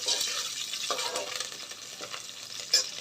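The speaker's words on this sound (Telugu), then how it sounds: "తాలింపు వేసుకున్నాను. సో తాలింపు వేసుకొని ఒకసారి కలుపుకున్నాక" Green chillies, dried red chillies, garlic and curry leaves sizzle in hot oil as a tempering while a spoon stirs them in the pan, a close, steady frying hiss with light scraping and a faint clink near the end.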